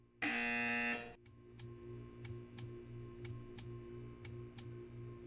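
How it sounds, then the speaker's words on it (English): A harsh electronic buzzer in Portal 2 blares for about a second, followed by a steady clock-like ticking at regular intervals over a low hum. "When you hear the buzzer, stare at the art."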